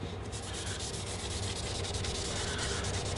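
Rag rubbing red leather dye onto a leather surface, a close, continuous scrubbing and swishing with quick back-and-forth strokes, steady and alone.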